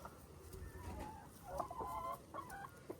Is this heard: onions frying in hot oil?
no